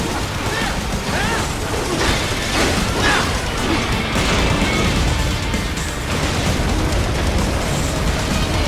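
A missile blows up during Metal Gear Rising: Revengeance gameplay, a dense, continuous roar of crashing blasts and debris that fills the whole stretch at steady loudness, with no quiet gaps.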